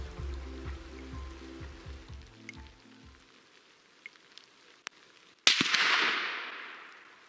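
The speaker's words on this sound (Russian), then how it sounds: "Так, стреляю по тарелочке." A single loud rifle shot from a Tikka T3x Lite .308 carbine at a plate target, a sharp crack with a long decaying outdoor echo, preceded by low rumbling and a few faint clicks.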